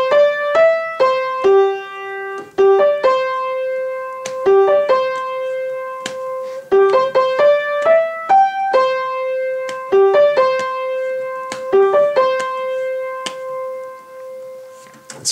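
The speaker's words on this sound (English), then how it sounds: "So once through, the vocal line should sound something like this." Solo piano picks out a song's chorus vocal melody, clear single notes in a repeating phrase, moderately loud and alone, with no talking.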